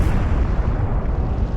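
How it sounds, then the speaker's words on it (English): An explosion sound effect representing the Big Bang: a loud, continuous low rumble with a dense, roaring body that holds steady throughout the short stretch, with no voices. "our universe began some 14 billion years ago in an intensely violent explosion"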